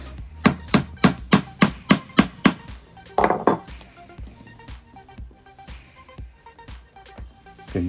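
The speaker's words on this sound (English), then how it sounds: "guess what, we'll use a hammer." Sharp hammer blows in woodwork ring out loud and close, about nine evenly spaced strikes in quick succession, followed by quieter clinks and handling of tools with faint shop resonance.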